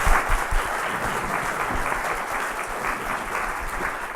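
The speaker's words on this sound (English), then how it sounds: "Let's have a round of applause for Get Fresh Baked." Audience applause follows a bakery business pitch at a user-experience showcase event, a dense, steady wash of many hands clapping that holds for the whole stretch at fairly close range.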